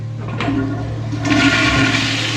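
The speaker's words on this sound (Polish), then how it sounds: "Jak chcesz spuścić tutaj wodę, to naciskasz ten przycisk." A toilet flushes after its push button is pressed in a holiday apartment bathroom in Sardinia, a loud close rush of water that swells after a click and keeps running.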